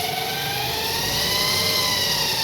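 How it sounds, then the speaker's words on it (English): Continuous whirring of an electric vehicle motor's brushes under light throttle, a steady tonal hum that rises slightly in pitch, close and fairly loud with no voices. "that noise you hear is just the brushes"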